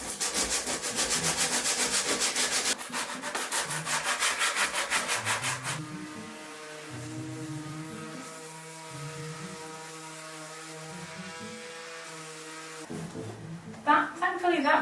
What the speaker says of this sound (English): I'll have to use some hand sandpaper and get in the corners.